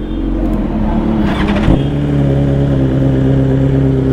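A loud motorcycle exhaust idles with a deep, steady thump, then blips sharply in one quick rev around the middle before settling back to a rough, throbbing idle, heard up close.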